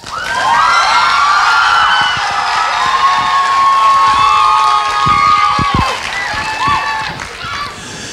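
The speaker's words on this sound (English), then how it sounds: "One more round of applause for your teachers." A crowd at a music festival opening ceremony applauds and cheers for the teachers, with loud sustained clapping, children's shouts and whoops layered throughout, tapering slightly near the end.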